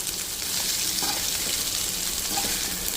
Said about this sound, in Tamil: 2 நிமிஷம் நல்லா வதக்கிட்டு ஸ்டவ்வை ஆஃப் பண்ணிக்கோங்க